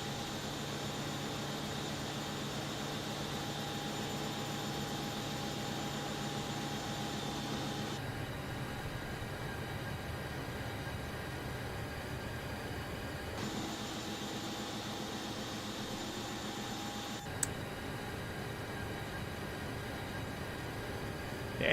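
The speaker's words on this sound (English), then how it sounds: "The engine sounds are controlled by P3D itself." Jet engines of a Boeing 737 MAX in the Prepar3D flight simulator game give a steady, even roar with a fixed tonal whine, shifting slightly in tone a few times, with a single click near the end and no voices.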